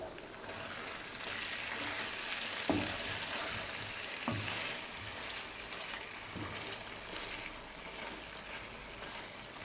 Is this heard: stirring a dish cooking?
yes